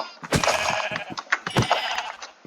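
Sheep in the video game Minecraft bleat several times in quick succession, close and fairly loud, along with a few short clicks.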